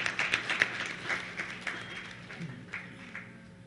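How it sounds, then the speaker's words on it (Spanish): An audience at a forum on drug policy in Mexico applauds a newly introduced speaker: moderate, fairly quiet clapping from a modest crowd, loudest at the start and slowly thinning out toward the end. "Un fuerte aplauso para Chuy Tenorio."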